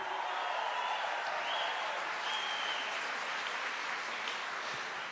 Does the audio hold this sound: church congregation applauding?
yes